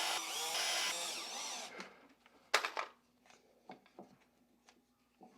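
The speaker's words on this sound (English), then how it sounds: "I'm going to just put in a couple of screws" A power driver whirs loudly for about two seconds driving screws into a 4-inch dust collector pipe, followed by a few short quieter bursts and clicks from the tool, close up with no speech.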